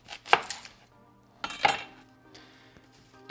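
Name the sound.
cutting an onion with a knife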